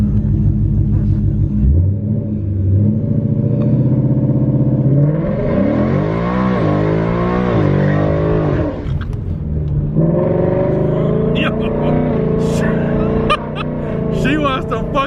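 A 2019 Ford Mustang GT V8 with a JLT intake and tune accelerating hard, its loud engine rumble climbing through the revs in long pulls with gear changes, heard from inside the car with people talking over it.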